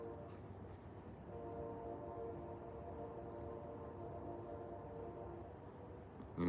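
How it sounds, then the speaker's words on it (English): A train rumbles steadily past at a distance, a continuous low drone with faint horn-like tones, with no voices. "Now you're gonna hear a train go by."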